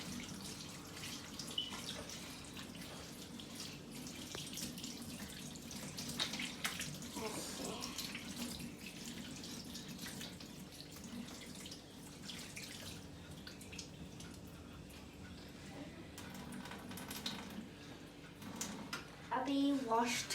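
Tap water runs continuously while something is washed in a home kitchen sink during cooking, a steady splashing wash with occasional clatter, and a voice is talking over it.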